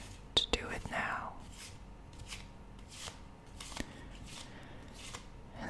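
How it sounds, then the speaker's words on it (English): A deck of tarot cards is shuffled in quiet, close bursts of soft riffling and flicking, with faint whispering heard between the shuffles. "the cards, the deck, as I'm shuffling them"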